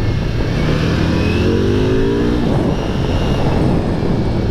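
A Ducati V4 motorcycle engine revs loudly and steadily up close, with a continuous dense roar and a rising pitch sweep partway through.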